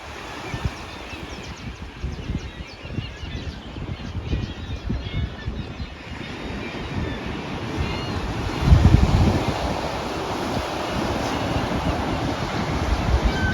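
Steady broadband rush of ocean surf and wind along the shore of a California bay, with a louder wave surge swelling midway before settling back into continuous wash.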